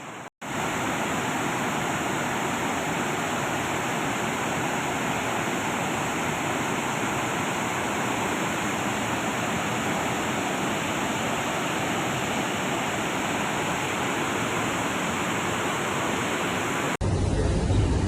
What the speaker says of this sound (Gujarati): શેત્રુંજી ડેમના વીસ દરવાજા એક ફૂટ ખોલવામાં આવેલા છે